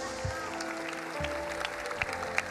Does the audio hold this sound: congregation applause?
yes